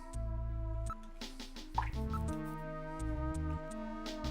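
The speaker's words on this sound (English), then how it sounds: "Confirm there's any sound other than water drops and Little John shorting out." Water drips in the Sega CD game Snatcher, a series of soft plopping drops over a sustained, droning electronic music bed.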